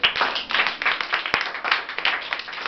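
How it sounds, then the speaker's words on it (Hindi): Students at Gurukul Kurukshetra clap together in a short, fast burst of dense hand claps, close and fairly loud, with no talking. "अरे वाह, ताली बजाओ जरा"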